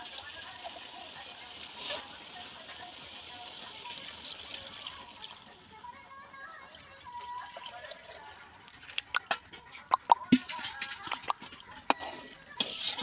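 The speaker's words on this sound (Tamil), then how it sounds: "இப்போ தண்ணி ஊற்றிக்கலாம்." Water runs and splashes softly into a metal cooking pot for a village-style meat curry, followed by clinks and knocks of utensils against metal.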